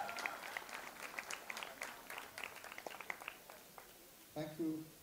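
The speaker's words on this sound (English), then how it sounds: "let's give a big round of applause" Applause from a college audience at a campus event, a dense wash of clapping that fades toward the end, with a voice speaking briefly over it at the close.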